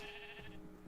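Sheep in the video game Minecraft gives a single short, wavering bleat close up, heard alone against a quiet background.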